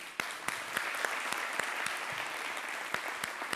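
Audience applause on a French-language TV show, a steady wash of many hands clapping with a few sharper individual claps standing out, sustained throughout at moderate loudness.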